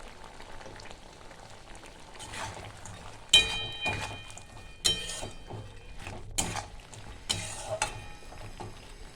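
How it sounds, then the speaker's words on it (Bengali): Small puti fish dropped into a bubbling mustard-oil fish curry, a faint background sizzle and simmer broken by several sharp splashes and stirring clatters, close and without speech. "এবার মাছগুলো দিয়ে দিচ্ছি"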